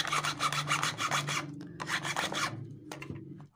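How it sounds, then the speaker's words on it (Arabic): A file or sandpaper rasps quickly back and forth over the excess plastic of broken headphones, first in a rapid run of close strokes, then in a second run that stops with a small knock. "اللحم الزيادة ده باستخدام صنفرة او مبرد نعمل له ازالة"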